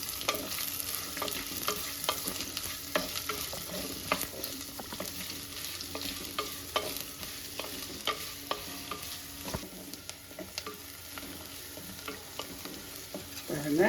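Two large, finely chopped onions fry in hot oil in a pan for a Kerala-style coconut milk rice, giving a steady close sizzle with frequent sharp scrapes and clinks of stirring throughout.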